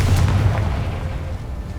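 A deep rumbling blast from the Confringo fire spell in a Harry Potter video game, a sustained low boom that holds steady and slowly fades, heard alone without talk.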